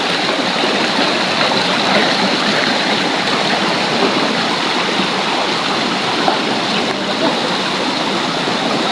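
A creek flows on a walk toward it in the Philippines, its water rushing in a steady, dense, close wash that never lets up, with no talking.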